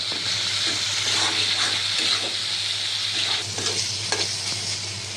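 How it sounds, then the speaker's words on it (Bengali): Spice paste with tomato sizzles steadily in a pan while being stirred, a continuous close hiss broken by scraping strokes of the spoon, with no talking. "মশলাটা ভালোভাবে কষে নিতে হবে এখন দেওয়া হচ্ছে টমেটো"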